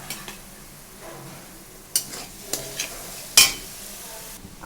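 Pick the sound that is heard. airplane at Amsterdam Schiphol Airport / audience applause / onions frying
onions frying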